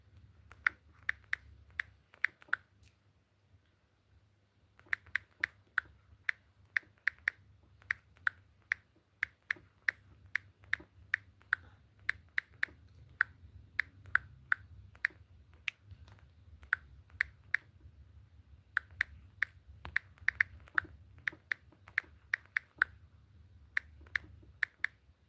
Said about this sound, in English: I'm typing the question on the screen right now.